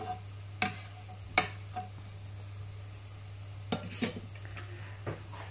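Metal utensils clink and scrape sharply against a hot pan with butter now and then over a low, steady hum, with faint sizzling in the quiet gaps.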